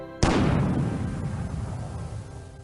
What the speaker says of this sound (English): Again and again, Molly loaded and fired the cannon